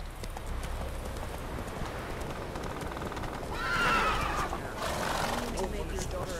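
A horse in The Witcher 3 lets out a clear whinny midway, with hoofbeats and rainy ambience running underneath and someone speaking at times.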